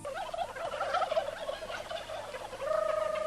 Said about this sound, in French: Oui, ce sont des poules.